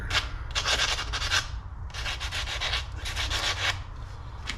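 Sanding or rubbing strokes roughen the surface of a graphite golf shaft before an adapter is glued on, coming in two or three close bursts of scratchy friction over a low steady hum, with no talk.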